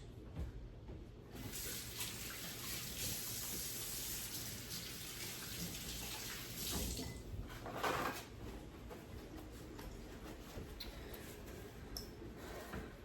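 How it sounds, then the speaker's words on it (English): A kitchen tap runs while hands are washed, giving a quiet, steady rush of water with a few faint clatters. "let me wash my hands first"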